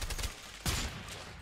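Automatic gunfire from an MP5 submachine gun in the video game A Way Out: a dense burst of shots that trails off, then one loud blast partway through, all close and with no talking.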